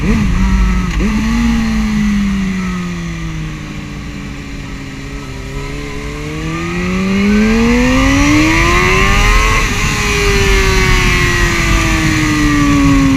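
A Suzuki GSR 600 mid-size roadster motorcycle engine revs and pulls hard, its pitch dipping then climbing steadily through acceleration with constant wind rush, loud and close, no voices.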